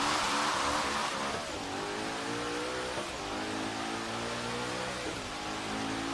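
Hoonicorn V2 engine revving hard in Forza Horizon 3, a loud continuous high-pitched roar with rising and falling pitch sweeps as it accelerates and shifts through the street run, no talking.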